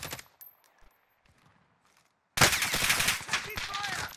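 Automatic gunfire rattles in COD Warzone, a sudden loud burst of rapid shots and impacts after a quiet stretch of faint clicks, continuing dense and close to the end.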